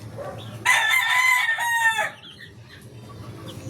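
A golden boy and 5K sweater straight-breed gamefowl rooster crows once, close and loud, a drawn-out call lasting over a second before tailing off into quiet yard background.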